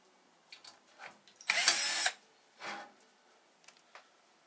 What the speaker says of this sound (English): we're going to remove 2 screws holding the heater in place with the fan